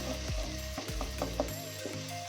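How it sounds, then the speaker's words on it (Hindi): Ingredients fry in a pan for chicken reshmi masala, a steady sizzle with a few scraping clicks of stirring close by. "अब इसको 1 मिनट के लिए भूनें अच्छे से।"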